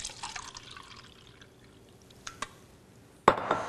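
Chanson ionized water poured into a glass, a soft splashing trickle with a few faint drips near the middle and a brighter, louder burst of liquid near the end, close by with no talk.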